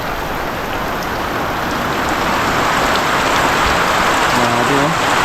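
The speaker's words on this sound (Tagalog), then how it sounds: "Ang lakas na naman ng ulan." Heavy rain pours steadily and loudly onto surfaces close by as a dense, unbroken roar that holds for the whole clip, with a faint voice briefly heard near the end.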